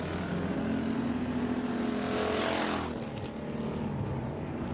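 Hobby stock race cars roaring around a dirt track during an eight-lap heat race, a dense, loud engine drone that swells as cars pass close by and then eases slightly.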